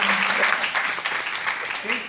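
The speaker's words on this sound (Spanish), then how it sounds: "yo lo aplaudo a él también" Applause for a writer being honored at a Spanish-language literary event, a dense, steady patter of clapping lasting throughout with a voice talking over it.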